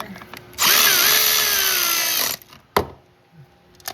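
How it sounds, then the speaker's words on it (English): A power tool tightens the valve cover bolts on a 2007 Chevy Impala SS, giving one close, loud whirring burst of about two seconds that rises as the bolt seats, followed by a sharp metallic clack and quiet shop noise. "All right, we got all the bolts started. We can go ahead and tighten up."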